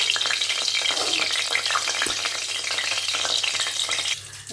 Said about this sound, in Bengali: একটু কালো জিরে ফোড়ন দিয়ে দিলাম।